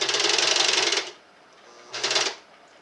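A sewing machine stitches fabric for a scarf in two runs, first a roughly one-second burst of rapid needle clatter, then a pause and a shorter burst, close and fairly loud.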